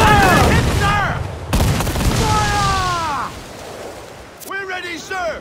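Ship cannon fire in Assassin's Creed IV Black Flag: several loud booming blasts in quick succession, each trailing off, mixed with shouted crew commands and whistling projectile sounds.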